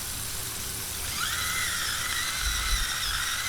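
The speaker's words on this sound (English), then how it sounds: "I like to use my coarse salt ground up in the little automatic shaker thingamajiggy." Small automatic electric shaker grinding coarse salt for seasoning smashburgers, a steady close whirring motor buzz that holds for a few seconds with a rising grinding tone, alone without talk.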